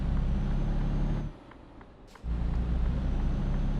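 Heavy truck in Euro Truck Simulator 2 with a loud steady engine drone that cuts out briefly, a sharp hiss of air brakes in the gap, then the engine rumble returns.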